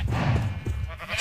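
A sheep bleats in the video game Minecraft, a wavering bleat or two heard fairly close against low background noise.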